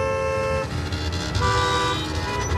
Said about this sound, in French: Le concert de klaxon a déjà commencé.